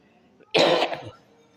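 A single sharp cough from a man during a religious talk, close and loud, bursting out abruptly and trailing off within about half a second against a quiet background.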